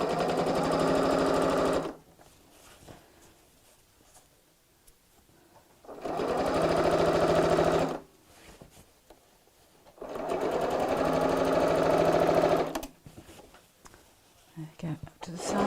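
A sewing machine runs a straight stitch on a tote bag in three loud, steady bursts of about two seconds each, separated by quieter pauses in which a voice speaks softly nearby.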